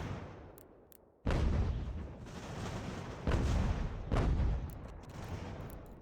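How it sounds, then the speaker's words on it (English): Cannon fire in the video game Ultimate General: American Revolution, several loud booming shots about a second apart, each with a rumbling decay that overlaps a continuous battle din. "Cannon, just keep on doing your thing. Hopefully shoot some cannons."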